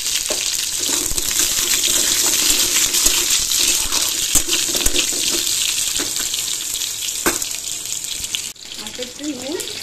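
Hog plums (amra) slide into hot oil tempered with panch phoron in a home kitchen, giving a loud, steady frying sizzle that runs nearly unbroken and dips briefly near the end.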